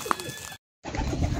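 Pigeons in a loft give soft cooing calls with a brief chirp, close but faint, broken by a short silence before the cooing and low shuffling noise resume.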